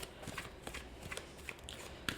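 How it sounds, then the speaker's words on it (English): Tarot cards are shuffled close up: crisp, papery riffles and soft slaps in an irregular run of bursts, quiet and with no voices. "Over the shuffle, we'll pull the 4 cards for the next 4 weeks."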